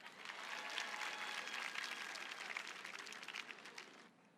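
Audience applauding at a national youth awards ceremony: a dense, steady wash of many hands clapping for about four seconds, moderately distant, then cutting off abruptly near the end.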